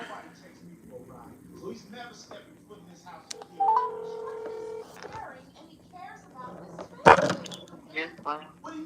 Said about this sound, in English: I was finna call you though from that other phone.